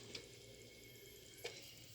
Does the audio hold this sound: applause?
no